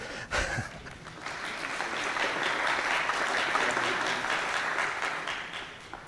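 An audience at a SQL Server failover demo bursts into applause, a sharp first clap followed by a swelling wash of steady clapping that holds and then begins to thin.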